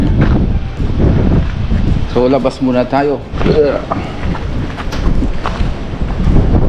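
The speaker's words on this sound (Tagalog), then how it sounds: "Yan na, lumalakas na yung hangin." Strong wind buffets the microphone with a heavy, roaring rumble throughout, while a person speaks briefly over it.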